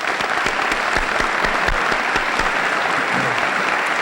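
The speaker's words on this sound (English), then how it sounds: "honoring them with your applause." An audience claps steadily and loudly for support staff at the dedication of a building addition for Ball State University's College of Architecture and Planning, a dense, even wash of many hands lasting the whole stretch.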